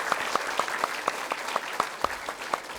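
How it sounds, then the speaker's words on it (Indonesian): A studio audience on an Indonesian comedy TV show claps in a regular, rhythmic beat, sharp distinct claps repeating roughly four times a second over a light crowd bed, close and moderately loud. "kita kasih tepuk tangan buat Mbak Titim"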